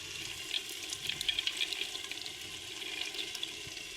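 Soaked chana dal tipped into sizzling masala in a cooker: a steady watery hiss and crackle, close and fairly quiet, with no talking.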